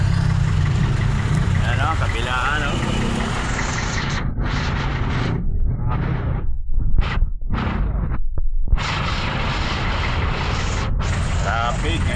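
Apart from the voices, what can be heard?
car engines idling in heavy traffic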